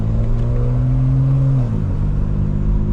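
Inside a 2025 BMW M4 Competition on a rough road, a loud steady engine drone and low tire rumble fill the cabin, the engine note dropping as the car eases off partway through.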